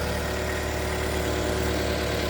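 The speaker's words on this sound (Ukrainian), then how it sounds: "Двигун шепче" A Renault Laguna 2.0 dCi diesel engine idles quietly in a workshop, giving a steady, even, low hum with a faint regular tick and no revving or talk throughout.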